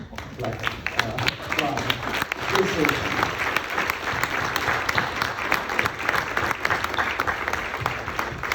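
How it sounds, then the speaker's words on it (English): A church congregation stands and applauds after a surgery testimony, a sustained, even roar of many hands clapping at moderate distance with a faint murmur of voices beneath. "We would like to stand up and give you a wonderful applause"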